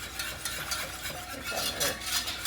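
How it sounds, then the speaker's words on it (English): A whisk scrapes and stirs flour through a thick chicken pot pie filling in a pan on the stove, making quiet, continuous rhythmic scratching and light metallic scraping with no talk. "I'm gonna whisk this"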